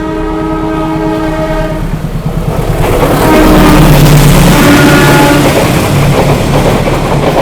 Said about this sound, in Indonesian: keretanya akan melintas langsung nih teman-teman.